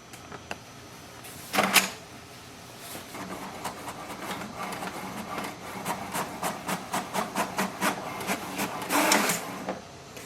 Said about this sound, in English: So you can see printer has printed the Windows printer test page.